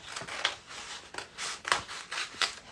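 Scissors cut through a folded paper sewing pattern past the dart, a close run of crisp snips and slicing swishes at an uneven rhythm.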